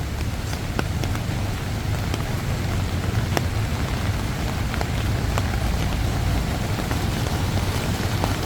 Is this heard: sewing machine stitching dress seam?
no